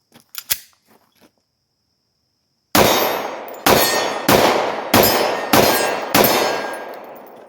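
A Sig P250 double-action-only pistol fired at steel targets on a range: a few faint ticks, then six loud, evenly spaced shots, each hit ringing out as a bright metallic clang that decays before the next.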